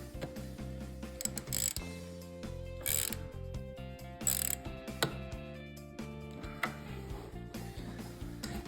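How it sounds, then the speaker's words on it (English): Ratchet wrench tightening a 10 mm ground bolt while wiring an LED light kit on a motorcycle, with bursts of close, rapid clicking spread over several seconds between quieter handling noises. "then we'll hook the ground right to here. And then just tighten it back down."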